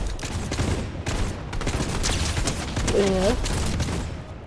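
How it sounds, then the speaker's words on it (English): Rapid bursts of gunfire from enemy bots crackle through a video game battle, dense and continuous with a short synthetic tone near the end, while a voice speaks briefly over the shooting. "There's enemy bots, so you can like shoot while they're fighting."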